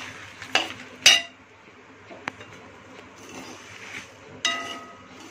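Rice dry-roasting in a pan for idli podi, heard as a quiet background with a few sharp metallic clinks and scrapes of a spoon against the pan.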